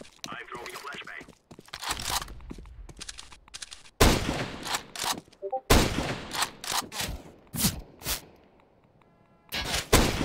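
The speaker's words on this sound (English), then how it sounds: "I'm throwing a flashbang." A flashbang grenade bursts during a CS:GO match, one of several sharp, loud broadband bangs mixed with rapid gunfire cracks and crunchy impacts that come in irregular clusters across the round.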